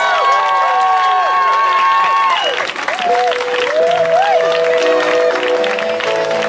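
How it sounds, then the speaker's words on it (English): Audience applause at the Kohala Aina Festival in Hawaii: sustained clapping and cheering from a crowd, with tonal whistles or voices rising and falling over the steady clapping. "Let's get a big round of applause for the Dorrances."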